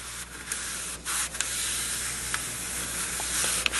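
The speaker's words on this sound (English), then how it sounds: "I'll come and use the old painter's brush, and I'll go around the record." An old painter's brush scrubs around the grooves of a very dirty vinyl record, giving a steady close dry hissing swish with a few brief sharper scratches, and no talking.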